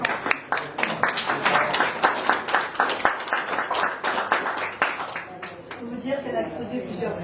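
Audience applause at an art exhibition opening, close-up clapping in a lively uneven rhythm that lasts about five seconds before tapering off as people talk.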